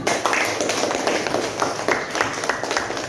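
A school class claps hands together in a steady, moderately loud burst of applause that lasts a few seconds.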